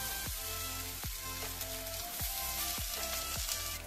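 Grated potato with chopped ginger dropped into a hot oiled pan, giving a steady close sizzle and hiss with a few soft thuds and scrapes, no voices.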